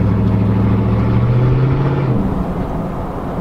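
Ford F250 pickup truck being driven, a loud steady engine drone near at hand that holds one pitch, then drops away and eases off toward the end, with no one talking.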